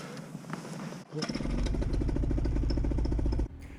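Paramotor engine and propeller start up after a click, settling into a loud, steady, close-up engine buzz with a rapid pulsing beat, then cutting off abruptly near the end.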